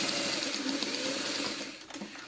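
A hand-cranked sewing machine stitches a seam in a quilted string basket, a quiet, rapid mechanical ticking of gears and needle running steadily, then softening near the end.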